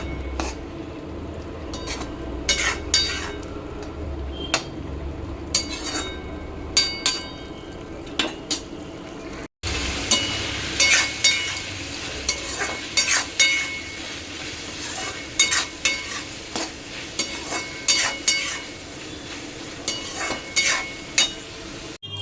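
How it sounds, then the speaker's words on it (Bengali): A light curry of ginger, cumin and tomato paste cooks in a pan, a soft bubbling sizzle under frequent metal clinks and scrapes of a utensil against the pan, with an abrupt cut midway. "আদা জিরে টমেটো বাটা দিয়ে তরকারি বসিয়ে দিয়েছি"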